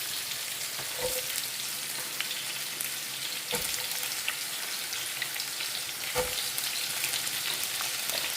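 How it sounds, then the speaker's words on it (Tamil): Onions frying in a pan for a large batch of couscous, a continuous close sizzle with a few sharp clatters of a utensil at intervals and no voices. "இப்போது நம்ம வெங்காயத்தை கூட்டணும்"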